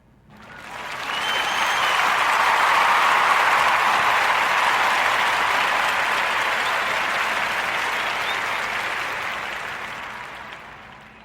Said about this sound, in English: Sonia Weaver Johnson a warm narrative podcast round of applause for her innovative brand, Sage Investment Club.